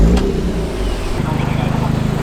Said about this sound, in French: On va démarrer le véhicule.